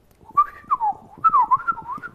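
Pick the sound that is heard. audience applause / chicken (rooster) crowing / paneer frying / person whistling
person whistling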